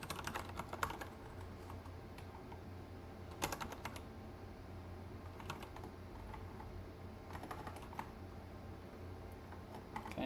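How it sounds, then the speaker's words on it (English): Steady clatter of typing on a computer keyboard, quiet and close, with irregular bursts of keystrokes over a faint room hum and no voices. "Sometimes this keyboard pisses me off. So I just can't type."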